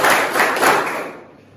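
Students in a classroom clap their hands together on a teacher's count, a short burst of group clapping that carries for about a second before cutting off into quiet.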